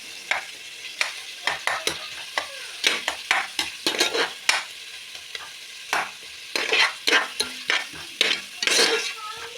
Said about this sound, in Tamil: தக்காளியும் இந்த ஆயிலில் கொஞ்சம் நல்லா வணங்கட்டும்.